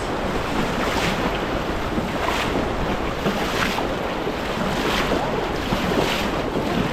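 A strong river current rushes past close by, a loud, unbroken roar of churning water with heavy wind buffeting the microphone and no voices.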